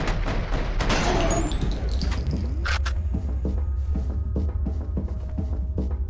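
Gunfire in the shooter game F.E.A.R.: Perseus Mandate, with a burst of loud shots and impacts followed by a string of evenly spaced sharp reports over a rumbling game backdrop.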